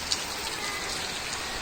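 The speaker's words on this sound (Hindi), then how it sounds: "बारिश देखे कितनी तेज़ हो गई है" Heavy rain pours down steadily outdoors, a dense continuous patter with no voices.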